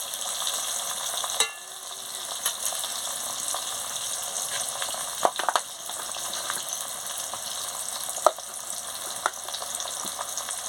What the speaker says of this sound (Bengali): দেখুন বন্ধুরা, পেঁয়াজটা কি সুন্দর লাল লাল করে ভেজে নিচ্ছি।